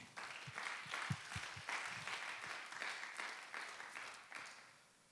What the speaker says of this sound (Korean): 우리 하나님 아버지께 감사의 박수 한번 올려드릴까요?